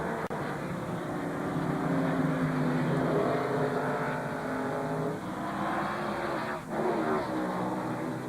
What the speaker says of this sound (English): Schrader in a Chevy, Bodine in a Ford